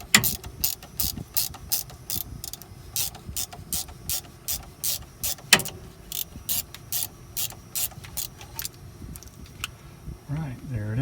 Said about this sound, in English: I just shortened up my puller a little bit so I could get this bearing the rest of the way off of here